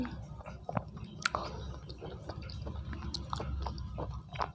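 Someone chews yogurt mixed with dates and candied jujubes up close, with soft wet squishing and small clicks in a quiet, steady rhythm and no talking.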